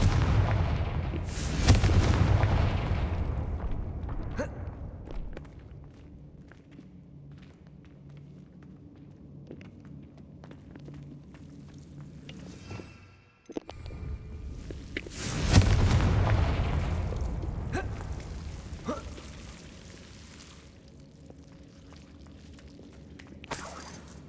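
Spell explosions from the Confringo curse in the Hogwarts Legacy video game, two loud booming blasts about fourteen seconds apart, each with a long rumbling decay.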